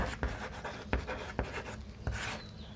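Pen writing an answer on paper while solving a Class 12 maths determinants exercise, heard as several soft scratching strokes with sharp taps, close and quiet, with no voice over them.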